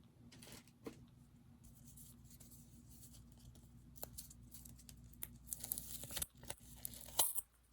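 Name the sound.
tape being torn to tape down paper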